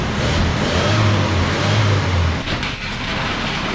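A 1977 Datsun car engine runs loudly and steadily, started in drive, with a low rumbling hum throughout and a slight dip and change in tone late on.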